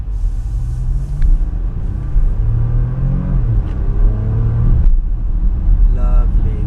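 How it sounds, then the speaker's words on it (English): A Porsche Macan Turbo in Sport Plus mode pulls hard out of a hairpin, its engine note rising through rapid gear shifts with rising-falling harmonic sweeps, heard from inside the cabin with a steady road rumble beneath. "I like the gear shift noise, and just the fact that you can hear the car"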